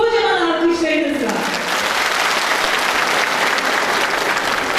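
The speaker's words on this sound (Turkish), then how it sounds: "Kocaman alkışlarınızla." A crowd at a Yörük Türkmen festival in Gedikli village, Isparta, bursts into loud, sustained clapping that fills the hall right after a brief spoken introduction.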